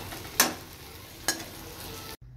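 Egg and potato sautéing with spices in a pan, a steady close sizzle broken by two sharp scraping stirs of a utensil, cutting off abruptly at the end.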